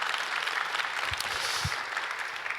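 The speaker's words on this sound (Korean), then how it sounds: "박수 치시려면 확실하게 좀 치십시오." A church congregation applauding during an early-morning prayer service, a dense steady patter of many hands clapping at even loudness throughout, with a couple of low thumps near the middle.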